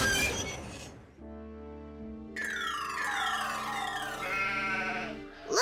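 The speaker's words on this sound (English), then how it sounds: "Looks like the sheep want to graze on the tracks today" Cartoon sheep bleat on railway tracks, with several wavering bleats over a steady tonal hum, loud and close, and no voices.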